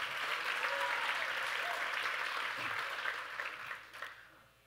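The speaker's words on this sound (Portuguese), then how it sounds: "aplaude Jesus de verdade" A church congregation breaks into sustained applause, thick and even for several seconds before tapering off quickly near the end.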